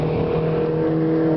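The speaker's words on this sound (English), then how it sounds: "mini challenge cup car." A Mini Challenge Cup race car at the Oschersleben circuit during track testing, its engine a steady, loud drone held for a moment as it passes.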